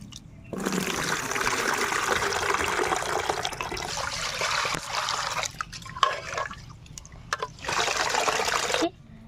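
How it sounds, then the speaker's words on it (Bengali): Broken rice grains are rinsed by hand in changing water, giving sustained splashing and sloshing with short pauses and a few drips, close by. "দু তিনবার জল পাল্টে পাল্টে আমি খুদগুলো ধুয়ে নেব"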